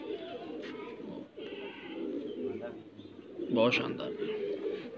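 High flyer pigeons coo in a loft, their soft throaty calls running steadily beneath someone speaking close by, with a brief louder flutter of activity near the end.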